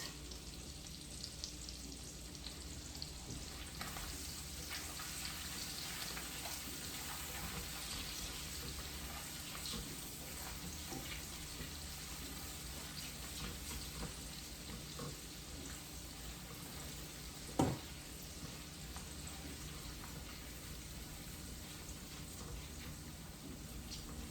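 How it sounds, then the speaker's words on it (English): Shallots sautéing briskly in very hot oil in a pan, a steady close sizzle and crackle running throughout with one brief sharp clink partway through; no voices. "that oil is pretty hot, so this is cooking down pretty quickly"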